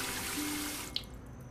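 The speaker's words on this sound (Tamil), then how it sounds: "செடிக்கெல்லாம் தண்ணி அடிச்சுட்டு இருக்க." Water runs in a steady, broad hiss while plants are being watered, with a brief splash or drip near the end and no talk.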